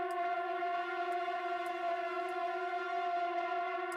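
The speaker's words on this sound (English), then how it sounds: "Modulation." An electric guitar with a modulation effect holds a sustained chord with bright, wavering harmonics that pulse gently and keep an even, fairly loud level, with faint periodic ticks above it in a metal song demo.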